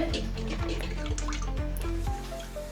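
Soaked mixture being strained, liquid dripping and trickling steadily through a strainer into a vessel, close and moderately loud, with a low steady hum underneath.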